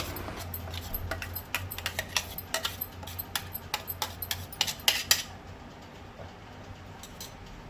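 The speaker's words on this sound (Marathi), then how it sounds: "आतां वांटल्या ती मिरसांग तवलेन काडटा।" A spoon scraping ground chilli paste out of a mixer jar into a pan, a quick series of close metallic clicks and scrapes that taper off, leaving quiet background hum.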